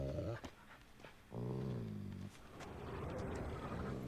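Dogs growling and whimpering in The Witcher 3, a low rumbling snarl that swells and fades over a background of game ambience and music, fairly close and moderately loud.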